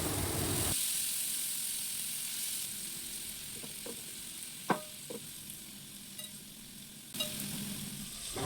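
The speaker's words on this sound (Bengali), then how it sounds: "লো ফ্লেম দিয়ে মাংসগুলোর একটা পিঠ ভাজতে দেবো" Chicken tikka pieces fry on a low flame, a soft continuous sizzle heard close and alone, with a few brief clicks and scrapes from the pan partway through.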